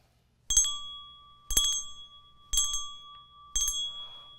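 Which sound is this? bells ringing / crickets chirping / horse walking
bells ringing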